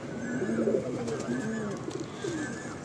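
A Fulsira pigeon from a home loft gives a run of low, rolling coos, three or four phrases in steady rhythm, near and clear against light background noise.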